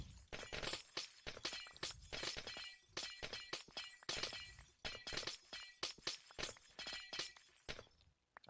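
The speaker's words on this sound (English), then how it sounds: "love the sound of ice and glass breaking" Ice and glass blocks shattering in Minecraft, a rapid string of sharp crashing breaks one after another, loud and close with no talking.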